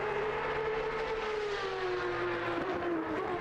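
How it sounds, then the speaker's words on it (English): Cup race car engine in a sim racing endurance event at Zolder, heard as a steady droning whine with a slowly falling pitch, sustained and fairly loud with no talk over it. "the Cup car sounds pretty good"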